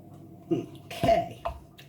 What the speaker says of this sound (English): that's just my cat meowing at me